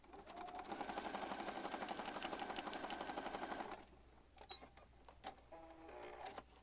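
A sewing machine stitches through a handmade oversized eclectic junk journal, running in a steady, fast mechanical chatter for several seconds before stopping, followed by faint handling and rustling sounds.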